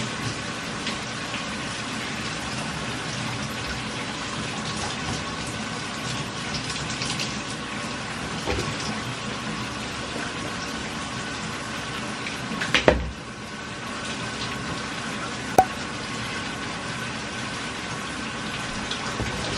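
Shower water runs in a steady, even hiss for a long stretch, close and moderately loud, broken by a brief knock and a small click partway through.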